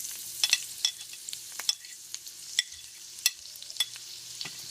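Chopped green chilies hit hot oil in a kadai, throwing off scattered sharp crackles and spits over a quiet background hiss, with no voices present.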